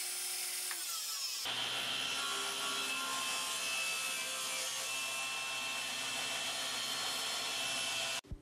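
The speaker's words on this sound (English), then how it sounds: "Table saw is going to be the best bet." A table saw spins up with a sudden jump to a loud, steady, high-pitched whine as it cuts a hole in a wooden cabinet door panel, running continuously before cutting off abruptly.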